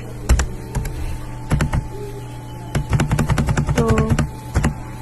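Code is typed on a computer keyboard in bursts of close, crisp key clacks, with a dense flurry of rapid keystrokes toward the end.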